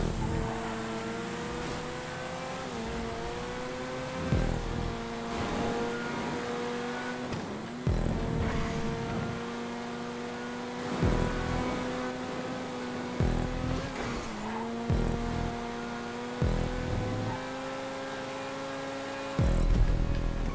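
Race cars in GTA 5 on a circuit race, a continuous close engine drone that climbs in pitch and drops repeatedly through gear shifts, with occasional bumps and tire noise, heard alone without talk.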